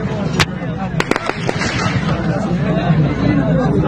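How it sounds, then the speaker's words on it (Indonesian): Gunfire in Gaza as people queue for aid: several sharp cracking shots ring out early amid a dense, noisy crowd murmur and commotion, and the background stays loud throughout. "Warga Gaza harus berlindung menghindari hujan tembakan yang dikeluarkan tentara pendudukan Israel saat antre bantuan kemanusiaan"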